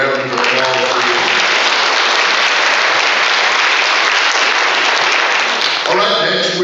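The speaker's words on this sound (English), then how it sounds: "I think we should give all of them a round of applause for this." A crowd at a county candidate forum claps in a loud, sustained burst of dense applause filling most of the stretch, with someone speaking briefly just before it swells and again as it fades.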